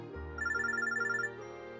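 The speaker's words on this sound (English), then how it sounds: "I get a call on my phone droid." A phone droid rings in the video game Robotics;Notes Elite, giving a short, rapid electronic trill of about one second over a sustained synth tone.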